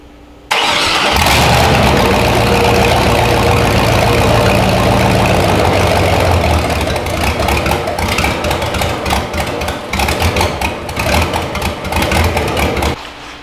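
LS-swapped 1972 Jaguar XJ V8 fires up and settles into a loud, steady idle close by, with a rough, throbbing exhaust note and slight revving toward the end, no talk over it.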